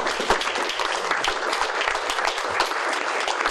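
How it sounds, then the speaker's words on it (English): A round of applause from the audience at a community storytelling talk-back event, a full, continuous burst of many hands clapping at close range, steady and loud throughout with no talking over it. "Let's give Michael a round of applause"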